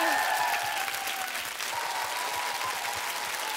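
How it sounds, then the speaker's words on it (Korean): Studio audience applause on a KBS Sunday-evening variety show stage, steady dense clapping filling the whole stretch at moderate level, with faint tones from the stage sound in the background. "여러분 격려의 박수를 다시 한번 크게 보내주세요"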